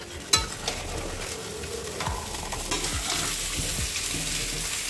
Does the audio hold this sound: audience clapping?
no